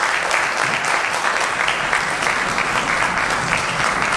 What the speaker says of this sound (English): And we give them a round of applause and thank them for all their support.